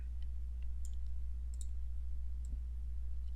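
A computer mouse gives a few faint, sparse clicks during a 3D modeling session, heard close over a steady low electrical hum.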